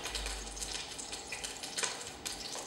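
Hot cooking oil sizzling in a pan before beef goes in to brown, a steady close hiss with faint crackles over the whole stretch.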